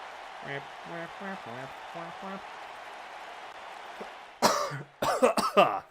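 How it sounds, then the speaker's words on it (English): A person talking over WWE 2K19 gameplay coughs several times in quick, harsh bursts near the end, loud and close. Earlier, quieter speech sits over a low background hiss. "I failed. I coughed."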